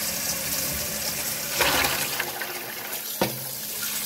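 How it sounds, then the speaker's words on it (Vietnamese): Corn kernels rinsed in water, with steady splashing and running water and a couple of sharper sloshes, close and moderately loud. "Các bạn rửa sạch phần ngô này nha."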